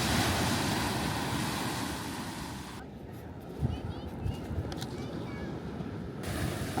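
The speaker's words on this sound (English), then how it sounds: "I don't know how loud the waves are" Ocean surf at a Florida beach, a continuous broad wash of breaking waves with wind buffeting the microphone, loud at first, briefly muffled, then swelling again, with a voice talking over it.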